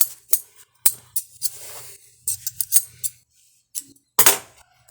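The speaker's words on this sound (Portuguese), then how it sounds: "Vou cortar essa da linha." Scissors snipping sewing thread beside an Elgin Singer Vigorelli sewing machine: a series of sharp, close metallic clicks and snips, irregular and spaced out, with a louder final cut, in an otherwise quiet room.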